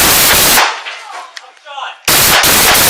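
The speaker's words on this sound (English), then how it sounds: "shots fired, shots fired!" Shotgun blasts are fired at a police officer in a close-range armed confrontation. Loud, harsh, overloaded booms hit at the start and again near the end, with a quieter stretch of commotion and voices between them.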